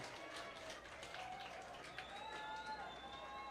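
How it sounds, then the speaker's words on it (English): Spectators at a Bingham versus American Fork boys' high school soccer match cheer for American Fork just before a penalty shootout, a fairly faint, distant crowd with scattered whistles and shouts, and voices talking nearby. "American Fork getting a cheer on"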